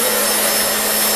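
A hairdryer blows steadily and loudly at close range onto a melting ice cube, producing a constant broadband whoosh with a faint motor whine and no voices.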